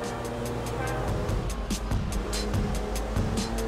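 A car engine drones steadily while the car drives through a stadium in the video game GTA V, a continuous close motor hum with faint rhythmic ticking on top.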